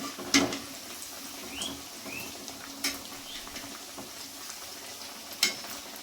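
Upma snack frying in a pan is gently stirred, a soft steady sizzle with a few sharp scraping clinks of a spoon against the pan, spaced several seconds apart.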